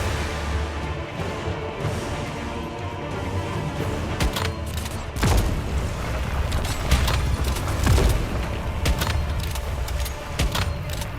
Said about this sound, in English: And I wish this gun could sound cooler